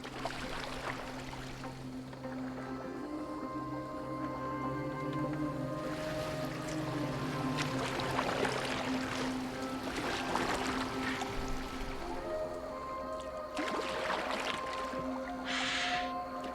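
A boat moves over open water in Assassin's Creed Valhalla, with a continuous wash of water and a low droning tone that swell and recede over a long stretch.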